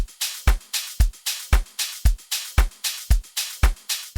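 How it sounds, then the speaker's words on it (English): Amapiano drum loops with claps, taps and percussion play together in a tight, steady groove, each beat a punchy low thump with crisp bright hits between, loud and close without any voice. "So when we play them all together, they sound like this."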